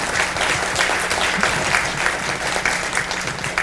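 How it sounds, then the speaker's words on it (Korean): Applause from an audience at a university lecture hall talk, a dense, steady clapping from many hands close by throughout. "여러분 박수 한번"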